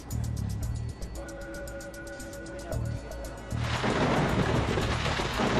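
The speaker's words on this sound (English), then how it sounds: "there was a storm coming in from the east" Thunder from an approaching storm rumbles low and steady beside an aircraft cockpit, a constant hum and tone running underneath before rain noise swells louder toward the end.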